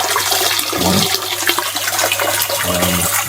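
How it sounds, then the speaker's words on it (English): Water rushes and churns steadily as the filter pump of an ice bath circulates it, loud and close with a continuous swirling flow and no voices. "So it circulates the water for one, which is really good."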